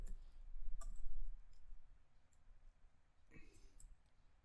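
Keys clicking on a computer keyboard in a few quiet, scattered taps, with soft speech-like murmur underneath.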